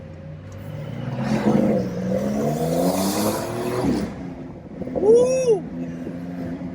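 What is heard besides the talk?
Porsche 911 Carrera 4S engine revving in sport mode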